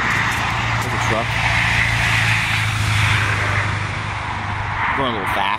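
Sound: truck passing on road

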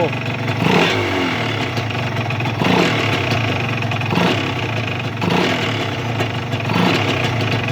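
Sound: Honda NSR150 two-stroke motorcycle engine revving with throttle

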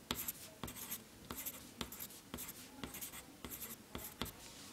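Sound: pen drawing a sketch on paper

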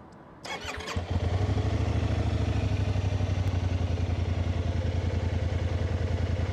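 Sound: maxi-scooter engine starting and idling

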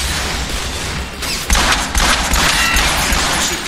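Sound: weapon fire in Transformers: War for Cybertron video game

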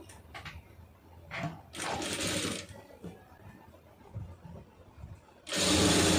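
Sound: sewing machine stitching chudithar lining piping

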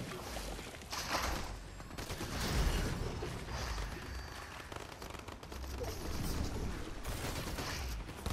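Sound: gunfire in the video game Fortnite

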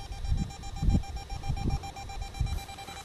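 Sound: EMF meter beeping

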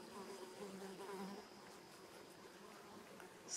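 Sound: bees buzzing around flowers

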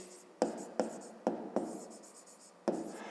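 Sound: writing by hand

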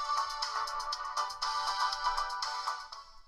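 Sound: preloaded song playing through fake iPhone 6 Plus speaker

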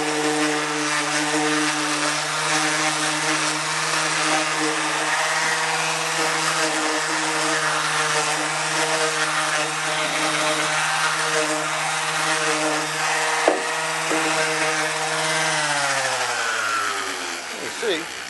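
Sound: power sander rounding edges of cedar wood

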